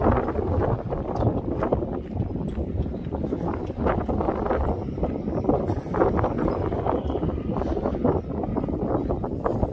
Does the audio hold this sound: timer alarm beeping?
no